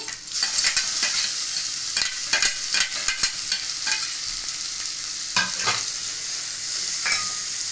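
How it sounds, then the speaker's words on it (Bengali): Boiled potatoes and chicken masala stirred and mashed with a spatula in a frying pan, with sharp repeated scrapes and taps over a constant close sizzle. "ভালো করে এটা আমি এবার খুন্তির সাহায্যে এবং ঘুটে ঘুটে মশলা বানিয়ে নেব"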